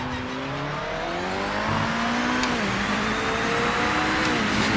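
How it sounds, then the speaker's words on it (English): A racing car engine in the video game Project Motor Racing drones and rises steadily in pitch as it accelerates, loud and continuous, with a faint tire squeal and no talking. "This car is so loud when it gets going."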